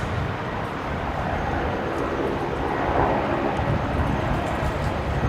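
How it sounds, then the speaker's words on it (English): A Link Airways Saab turboprop at Brisbane Airport sends out a steady, broad engine roar that holds loud and continuous throughout, swelling slightly toward the middle. "There's the Link Airways Saab."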